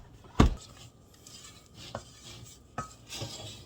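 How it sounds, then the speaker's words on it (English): Coffee cake batter is stirred by hand in a bowl, with a few sharp clinks of a utensil against the bowl, one loud and two softer, over quiet scraping. "just go ahead and take that off and just finish mixing it by hand"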